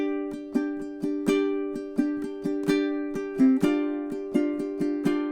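A ukulele plays a strumming etude, crisp evenly spaced chord strums in a steady rhythm with occasional accented strokes, close and clear with no voices.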